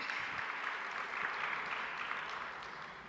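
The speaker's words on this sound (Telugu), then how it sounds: "చప్పట్లు గట్టి కొట్టి దేవుని స్తుతించండి" A church congregation clapping together in praise, a dense, continuous wash of applause heard from some distance at moderate level, holding steady for a few seconds with no voices on top.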